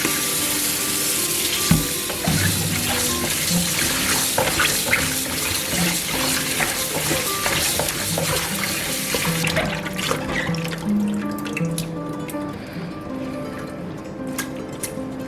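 Cucumbers for kimchi are rinsed under running tap water, a steady loud splashing and gurgling in a sink with occasional knocks, continuing throughout.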